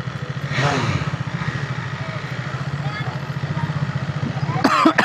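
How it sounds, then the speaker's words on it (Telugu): A superbike's engine rumbles steadily at idle in a narrow lane, close and loud with a pulsing low throb and a brief rev near the end, while people talk over it. "ఎవరి నాయన ఈ సందులో సూపర్ బైక్ వేసుకొని రావడం అంటే మామూలు విషయం కాదు"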